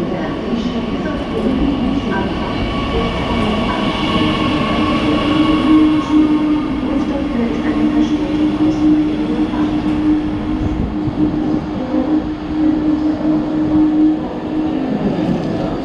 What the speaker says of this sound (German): hier kommt auch schon der Zug.